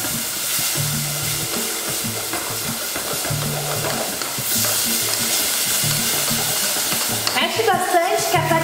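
Tomato and onion being stirred in a sizzling pan for picadinho, a spoon scraping up caramelized bits stuck to the bottom; steady close frying hiss with repeated scraping strokes, busier clatter near the end.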